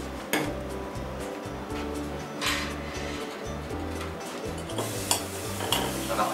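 A hot pan on the stove with brown sugar for toffee sauce, giving a steady hiss and faint sizzle with occasional clinks of a utensil against the pan, close by and without talk.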